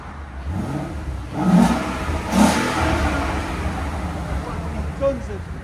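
A car exhaust with the resonator removed and its valves open revs in two sharp blips and then holds a rumbling idle, with people talking over the engine.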